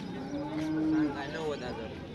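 A cow moos once in a long, steady low call at a busy cattle fair in Modnimb, with faint crowd noise and murmuring voices behind it.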